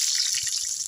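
Chopped onion hits hot oil in a village kitchen pan while tempering sambar with mustard seeds and cumin, giving a steady, close, bright hiss of sizzling for under a second with no voices.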